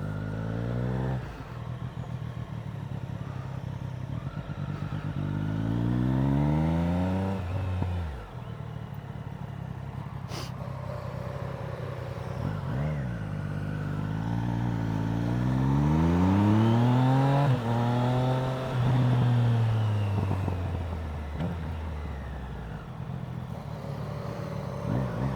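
Triumph Street Triple and Aprilia RSV4 motorcycles pulling away together, engines revving and climbing through the gears with rising and falling pitch, loud and close for the whole stretch on a humid day.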